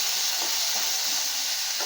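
Radish sautéing in a pan for sambar, a brief, steady hissing sizzle close by with faint stirring underneath.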